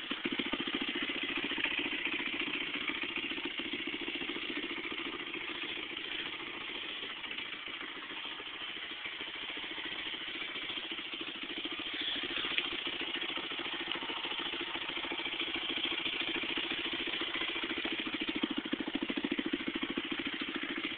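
A Honda CRF100F dirt bike engine idles steadily with a constant mid-pitched putter and slight rattle, heard close and continuous for about twenty seconds with no talk.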